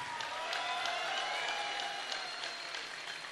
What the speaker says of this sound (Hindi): कैसे तालियां बजनी चाहिए।